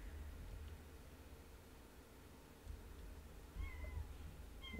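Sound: cat meowing

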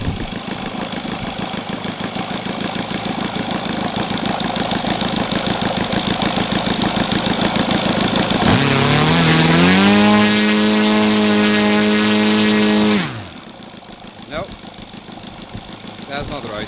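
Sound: Saito 270 Twin model engine converted to gasoline, running

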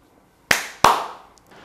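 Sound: two hand claps after reading a script passage

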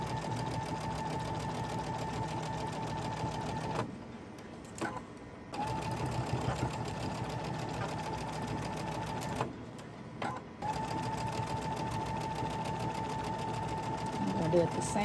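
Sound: sewing machine quilting fabric blocks

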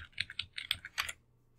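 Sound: typing on a computer keyboard

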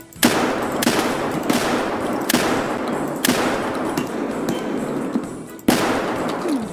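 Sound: gunfire from the video game Escape From Tarkov

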